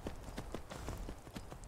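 Horse hooves clip-clopping in Skyrim VR, a quick, even rhythm of soft thuds at a trotting pace, fairly faint and heard alone for a moment.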